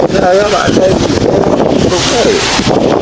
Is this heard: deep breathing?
no